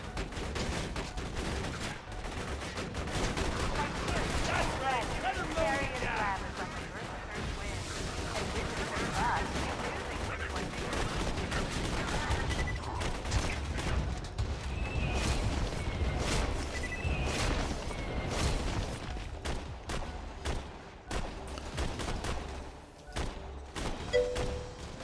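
A Jakobs cannon blasts repeatedly at enemy loaders while defending a beacon in a shooter video game, with dense, continuous gunfire, heavy thumps and explosions layered over a game soundtrack, loud throughout.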